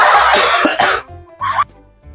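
A single person coughs hard a couple of times, then gives a shorter cough or throat-clear after a brief pause.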